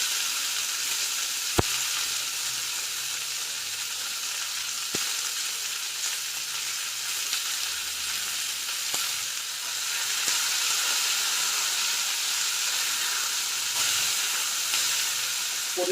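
Green beans and chilli frying in hot ghee give a steady, close sizzle and crackle that runs unbroken throughout, with a few sharp clicks of a utensil and no voices.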